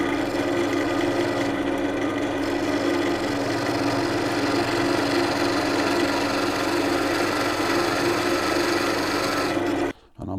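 Lathe turning truing up the inside hole of a wooden calendar: a continuous rasping, scraping tool-on-wood sound with a steady motor hum, loud and unbroken until it cuts off just before the end, with no speech.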